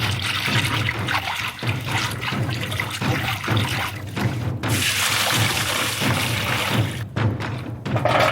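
Hot water poured into a pot for a traditional anchovy dry fish curry being cooked outdoors in a village, a continuous splashing, trickling flow with a few dull thuds, close and steady throughout.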